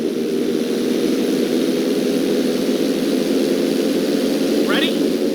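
A propeller airplane in GTA 5 flies with a continuous loud engine drone that holds steady throughout. A short rising whoosh cuts in near the end.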